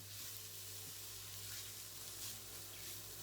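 Ground spices sizzle steadily in a pan for a cauliflower and pea curry while being stirred, a continuous soft crackling hiss with occasional scraping.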